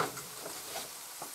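An onion mixture fries in a pan, giving a soft, steady sizzle with faint stirring scrapes and small crackles, heard close up without voices.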